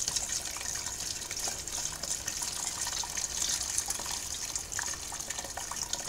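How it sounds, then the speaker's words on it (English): Water poured into a homebrew mash tun over an all-grain IPA grain bed, a steady continuous splashing trickle that stays close and even throughout, with no voices. "and just pour some more water in, just so it keeps that level above the grain bed."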